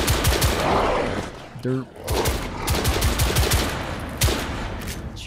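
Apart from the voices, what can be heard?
gunfire in The Order: 1886 video game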